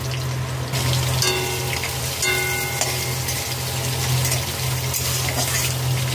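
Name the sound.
whole garam masala and green chillies sizzling in oil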